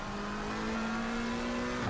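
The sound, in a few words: McLaren race car cornering in a racing video game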